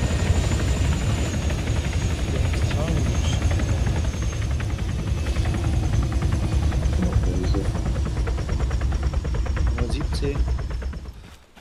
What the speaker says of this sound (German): Helikopter steht hinten hinter dem Gebäude unten am See